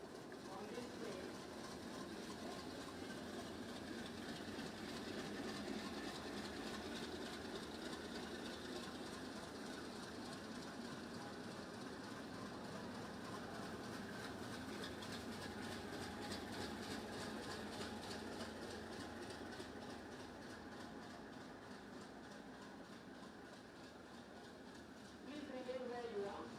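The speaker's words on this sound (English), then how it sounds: "will be able to witness until the last consignment on this train." A long freight train rumbles past steadily with rhythmic clacking of wheels over rail joints, a continuous heavy roar throughout.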